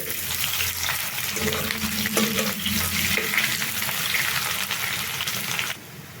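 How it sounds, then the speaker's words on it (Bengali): Onions and garlic fry in a pan for an okra and fish roe dish, giving a steady, moderately loud sizzle with a few soft stirring scrapes before it drops off near the end. "এবার আমি পেঁয়াজটাকে ভাজা হয়েছে প্রায় কিছুটা অর্ধেক ভাজা হয়েছে"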